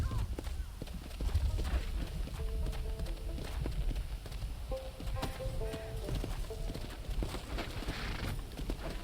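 Horse hooves clip-clopping in the Western video game Red Dead Redemption, a steady trotting rhythm of hoofbeats under game music and ambience, with a player talking over it.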